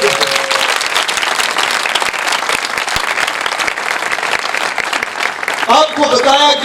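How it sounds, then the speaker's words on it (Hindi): Loud, dense applause from a church congregation for Jesus during a Hindi-Urdu sermon, with sustained clapping throughout and a voice rising over it near the end. "यीशु के लिए जोरदार तालियां बजा दीजिए"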